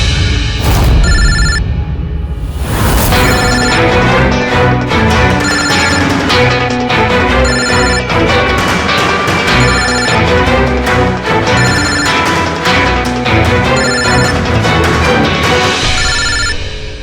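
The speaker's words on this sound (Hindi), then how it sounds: "कोई फोन क्यों नहीं उठाता? फोन उठा लो।" A telephone rings loudly and repeatedly in a steady electronic pattern, the bright tones recurring about every second with no talking.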